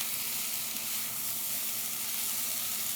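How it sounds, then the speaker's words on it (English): Vegetables sizzle gently in a pan while being stirred, a soft, even frying hiss, close but fairly quiet, with no voices. "I'm just going to give the vegetables a stir."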